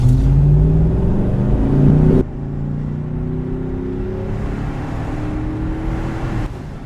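A Cadillac Escalade with a freshly swapped transmission accelerates hard on a highway, its engine a loud, close, rising drone that drops sharply at a shift and then climbs again under steady road roar.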